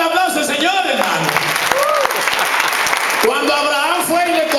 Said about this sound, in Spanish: Denle el aplauso al Señor, hermano.